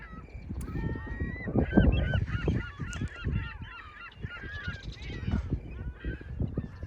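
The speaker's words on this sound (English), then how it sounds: "Just look at some of these beautiful sights right here of that bird migration in the Agmon Lake region." A flock of migrating birds honks at Agmon Lake in Israel, loud overlapping calls repeating in uneven bursts with no voices.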